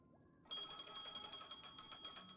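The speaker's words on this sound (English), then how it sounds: "Pardon me, the phone's ringing." A phone rings in the Honkai: Star Rail video game, a bright electronic ringtone with steady pulsing tones that starts abruptly after a brief quiet moment and continues, fairly faint.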